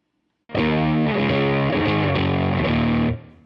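An electric guitar through a germanium Fuzz Face pedal, guitar volume on 10, plays a short, thick, distorted riff after a moment of silence, ending in a sustained ringing chord that fades.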